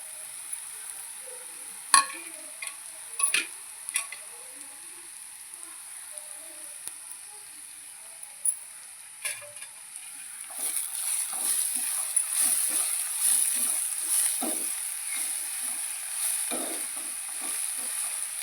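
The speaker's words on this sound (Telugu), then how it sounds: "ఉల్లిపాయ ముక్కలు బాగా ఫ్రై అవ్వాలి." Onion pieces and curry leaves frying in a pan for chicken curry, a soft sizzling hiss dotted with scattered pops and stirring clicks that grows fuller and more crackly in the second half.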